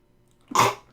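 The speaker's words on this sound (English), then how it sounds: "I'm going to sneeze." A single sharp sneeze bursts out close by after a moment of near silence, then trails off quickly.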